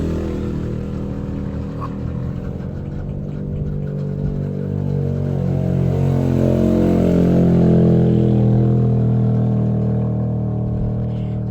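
A motorcycle engine runs close by outside a house, a continuous loud drone that swells and revs up around the middle before easing slightly.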